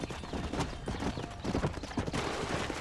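Rapid hoofbeats of a horse trotting in the video game Red Dead Redemption, irregular clopping over a low rumbling background, fairly close.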